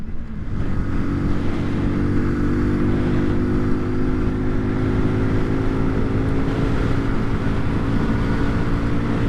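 A 2020 Kawasaki Z125 Pro motorcycle held at full throttle, its small engine droning loudly and steadily as it strains to climb, with wind noise running underneath for the whole stretch and no pauses or changes in pitch.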